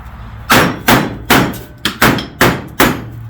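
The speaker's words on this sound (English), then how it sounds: "I just use that hammer to kind of bend it." Six loud, close hammer blows strike a metal floor pan patch against a table edge to bend it, at an uneven pace, each a sharp ringing clang with short gaps between.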